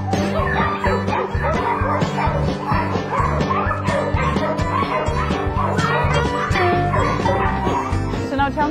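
Several dogs at an open-air boarding kennel bark, yip and whimper continuously and loudly, their overlapping voices forming a dense chorus with faint talk mixed in.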